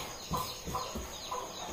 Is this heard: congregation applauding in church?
no